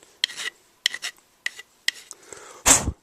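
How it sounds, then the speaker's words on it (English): A metal file rasps down excess material on a Flip HD Cisco camcorder battery, several short scraping strokes with brief gaps, ending in one louder, longer stroke, close by. "So you just file down to where you think that it's okay."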